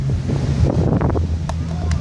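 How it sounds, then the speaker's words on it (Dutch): Strong wind buffets the microphone outdoors in Friesland with a steady low roar and rumble, gusting throughout. "Het waait hier wel een beetje hard."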